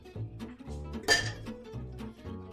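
A whisk set down against a mixing bowl of batter, with soft clinks and knocks followed by one sharp metallic clatter, close and fairly quiet.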